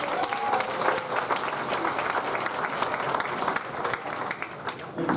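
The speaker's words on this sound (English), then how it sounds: "that deserves a round of applause" An audience applauds at a school hall of honor ceremony, with dense, sustained clapping from a large crowd in a hall, steady and moderately loud throughout.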